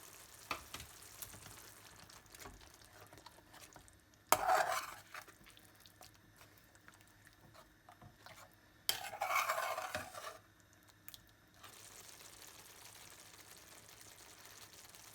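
Meat for a Rogan Josh sizzles quietly in a pan while a utensil stirs and scrapes, with two louder bursts of spitting and scraping against a low frying background.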